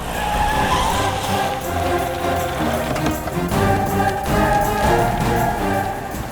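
A car overtakes and skids to a stop during a chase, with loud engine roar and tire skidding under dramatic action-movie sound, dense and continuous throughout.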